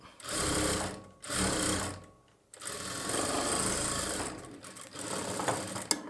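A sewing machine stitches a boat neck blouse in several steady bursts of whirring, close and loud, with short pauses between runs and no talk.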